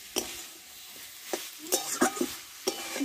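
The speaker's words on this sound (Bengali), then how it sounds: "দেখো বন্ধুরা এটা আমি ভাজা ভাজা করে নামাবো" Boiled potatoes for an aloo and barbati chorchori frying in a pan, with a few clear stirring scrapes over a soft steady sizzle, each stroke close and distinct.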